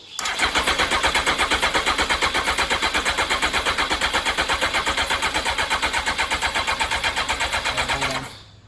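An old motorcycle engine that sat for over ten years cranks over steadily for about eight seconds, a loud rapid rhythmic churning from the starter that never catches, then stops.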